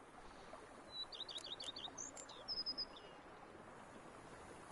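Birds chirping in The Witcher 3 countryside, a few short, faint high tweets in quick clusters over a steady soft ambient hiss.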